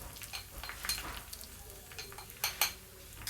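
A spoon scrapes and clinks against a pot, stirring chili powder into simmering paruppu kulambu: soft, uneven metallic taps and swishes close by.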